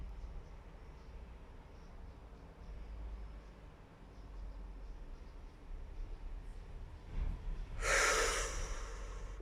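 Slow deep breaths during a relaxation breathing exercise, soft airy inhalation building gradually, then a loud close exhale or snort-like rush of air near the end.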